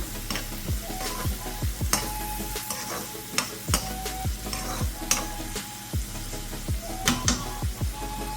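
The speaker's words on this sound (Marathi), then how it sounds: "आता हे चांगलं घाटून घेऊया" A spatula stirs amaranth greens with salt in a frying pan over medium heat, giving repeated scraping strokes against a low steady sizzle, close and fairly loud with no talking.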